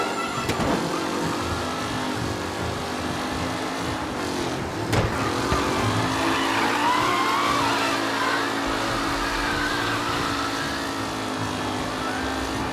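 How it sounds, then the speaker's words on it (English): Race cars in Mafia Definitive Edition roar steadily around a track, a loud continuous engine drone with passing surges and a brief tire squeal, no voices over it. "What a race today, folks. The driving's been incredible."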